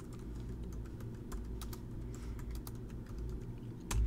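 Someone types a name for a path on a computer keyboard in a digital painting program: a quick, steady run of close, crisp key clicks over a low background hum.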